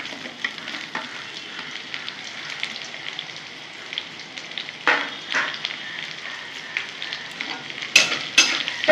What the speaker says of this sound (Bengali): ভাজা হয়ে গেছে, এখন আমি পেঁয়াজগুলো দিয়ে দেবো।